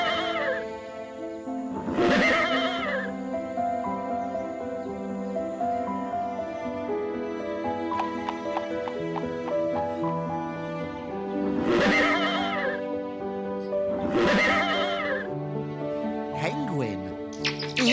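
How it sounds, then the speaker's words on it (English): A horse on a farm neighs in several loud whinnies spread across the stretch, over a steady tonal music bed. "It's a horse."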